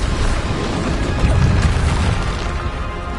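Spell blasts and impacts in Hogwarts Legacy, a loud rumbling boom of layered explosions and crashes rolling continuously for a few seconds with no speech.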